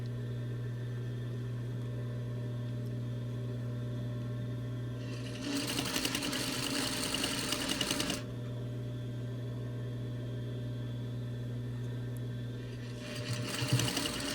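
Sewing machine stitching a face mask seam: two bursts of fast, steady stitching up close, one about three seconds long and a shorter one near the end, over a constant motor hum, with no talking.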